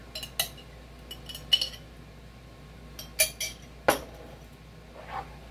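A utensil scrapes and clinks against a pot while stirring chicken pot pie gravy, with a few sharp metallic taps spaced irregularly and close, alone with no talk.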